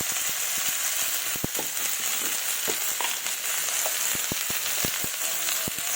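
Cauliflower, potato and tomato sizzle steadily in hot oil in a pan for a fish curry, with scattered sharp pops and crackles over the frying hiss.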